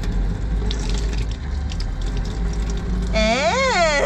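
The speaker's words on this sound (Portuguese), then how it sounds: "Liga aqui a aguinha." Water runs from a pump-fed tap in a VW Transporter campervan as a steady, close gush, and near the end a person starts speaking over the flow.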